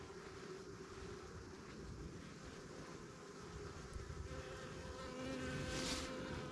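A steady drone of many calm honeybees from a captured swarm buzzing nearby at an apiary hive, continuous and moderately loud, with individual bees flying close past.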